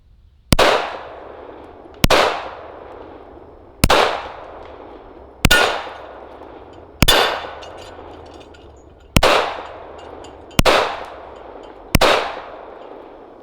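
Eight unsuppressed shots from a Rock Island 1911 .45 ACP pistol at steel targets, each a sharp loud crack with a ringing steel clang, fired in an even rhythm about one and a half seconds apart outdoors.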